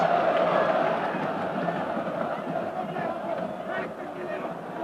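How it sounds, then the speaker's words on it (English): A large stadium crowd of football fans roars and cheers steadily at a Galatasaray versus Manchester United Champions League match, a dense sustained din with a commentator talking over it. "It's got the fans on their feet and cheering again."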